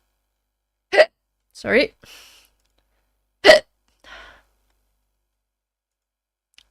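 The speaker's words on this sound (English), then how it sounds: "the hiccups." A woman streaming an online chess game lets out two sharp, close hiccups a few seconds apart, each followed by a short breathy vocal sound, and briefly speaks in between against an otherwise silent room.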